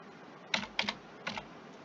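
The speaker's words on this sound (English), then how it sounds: "now we're going to type in the supplier's invoice number" Fingers type a supplier invoice number on a computer keyboard in three quick, close bursts of crisp keystrokes over a quiet background.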